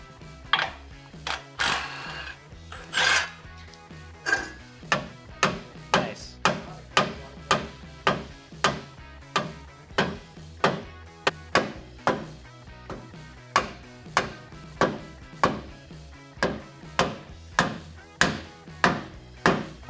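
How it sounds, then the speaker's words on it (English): Repeated sharp metallic hammer strikes ring out as bracket ears on a front bumper are hammered down, about one per second, close and loud, with a few irregular knocks at the start. "these ears we'll need to either cut them off or hammer them down"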